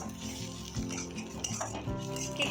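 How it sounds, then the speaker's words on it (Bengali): Fish oil frying in a pan for a vendi side dish, a continuous close sizzle with utensil clinks and a few stirring knocks against the pan, no voices. "মাছের তেলটাও দেখো আমার মোটামুটি ভাজা হয়ে গেছে"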